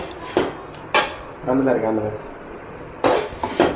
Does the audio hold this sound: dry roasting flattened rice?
yes